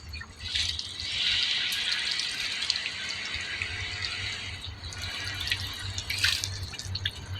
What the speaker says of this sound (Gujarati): જો આપણે પાણી પી લઈએ.